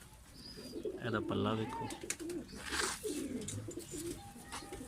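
A pet pigeon coos in soft repeated rolling calls close by, while someone talks over and between them.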